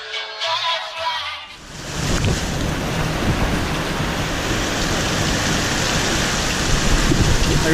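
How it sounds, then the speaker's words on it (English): Heavy tropical storm rain pours onto a sailboat at sea, with a dense, steady roar of drops that sets in after a brief quieter moment and continues loud throughout. "The great thing about tropical storms is the wind that comes with the tropical storms."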